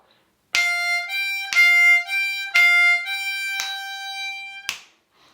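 A blues call-and-response phrase played slowly on harmonica, five sustained harmonic notes with sharp attacks, each held about a second, the last one clipped short, loud and close with no talking.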